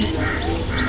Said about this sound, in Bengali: অনেকদিন পরে কাকের আওয়াজ শুনতেছি